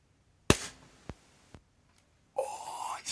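Tokyo Marui Glock airsoft pistol running a CO2 magazine fires sharp, loud cracks: one strong shot, then two weaker snaps, followed by a longer gassy hiss.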